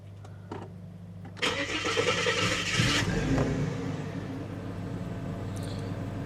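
A Ford AU car engine with an electrical fault cranks briefly with a few clicks, then catches and settles into a steady idle hum.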